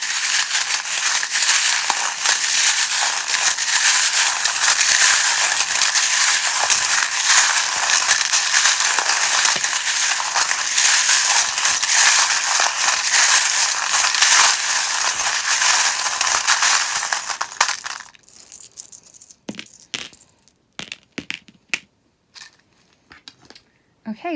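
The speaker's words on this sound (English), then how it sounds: "if you don't like the sound of the charms, or if you have your volume turned up high" Dense metallic jingling and clinking of metal tarot charms being shuffled, loud and continuous for most of the clip, then dropping to sparse scattered clinks and rattles near the end.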